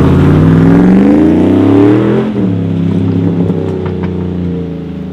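A 105 Series Land Cruiser with an LS3 engine revs loudly up close in two-wheel drive, then its pitch drops as it moves off through a river, with splashing water mixed into the engine roar.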